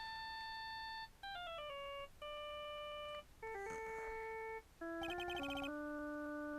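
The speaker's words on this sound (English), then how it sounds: "And I bet it was this ringtone that caused it." A video game phone ringtone from Phoenix Wright plays a quick electronic melody of clean descending and stepping tones, with brief pauses between phrases, clear and alone.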